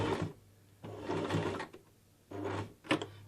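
A home sewing machine stitching in reverse with the reverse lever held down gives two close, steady bursts of rapid mechanical whirring and clatter, separated by short pauses and ending in a sharp click.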